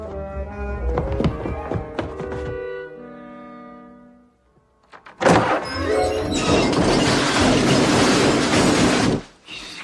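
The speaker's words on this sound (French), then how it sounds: "C'était le bruit d'un coffre à outils qui descendait l'escalier." A toolbox tumbles down a staircase in a loud clattering series of thuds and metallic crashes after a stretch of other noise, the banging dense and close before cutting off abruptly.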